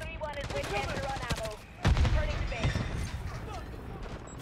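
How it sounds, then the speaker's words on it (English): Rapid SMG fire from an MCW with conversion kit in Call of Duty: Modern Warfare III multiplayer, bursts crackling through a loud, busy game mix with a player talking over it. "We're just shooting through crates like it's nothing."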